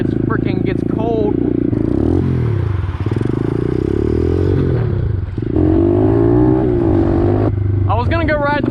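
A pit bike engine revving and droning while the rider pulls wheelies outdoors, a loud buzzy motor rising and falling with shifting pitch, close and continuous, with someone talking over it throughout.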